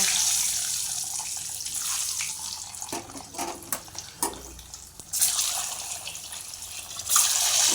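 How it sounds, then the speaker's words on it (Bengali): Eggs fry in hot oil seasoned with turmeric, giving a steady close hiss with a few soft knocks and a louder burst near the end. "ডিমগুলো হালকা করে আগে ভেজে নিতে হবে।"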